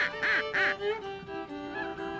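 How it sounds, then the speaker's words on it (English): Ducks quacking in a South Louisiana marsh, two loud nasal quacks up close followed by softer honking calls, with no talk over them. "When you see ducks way up in the sky, you give them a couple of quacks."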